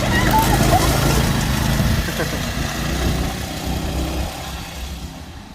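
A Harbor Freight 212 Ghost engine on a Yerf Dawg go-kart runs steadily with a low, continuous drone that holds fairly loud and close throughout, easing slightly toward the end.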